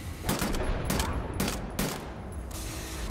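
Gunfire bursts in the video game Wolfenstein The New Order come as several sharp, rapid volleys over a noisy game backdrop, loud and close with brief pauses between them.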